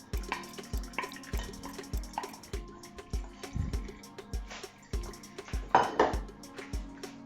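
Carrot-infused coconut oil is strained into a jug with a rhythmic series of soft knocks and clinks from a strainer and container, roughly two per second. Faint liquid dripping sits underneath, and a louder rattle comes near the end.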